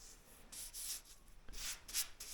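Hand sanding on the door of a 1982 air-cooled VW Vanagon Westfalia: quiet, repeated scratchy rubbing strokes in short bursts, close by, with no talking.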